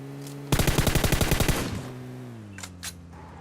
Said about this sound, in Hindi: पेड़ों पे चढ़ के गोलियां चला रहा हूं मैं।